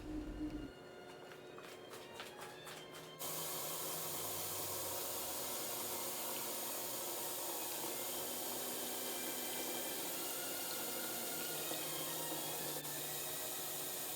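Water poured from a plastic bag into an aquascape tank, a steady broadband rushing and splashing that starts abruptly after a few seconds and continues evenly at moderate level, alone without talk.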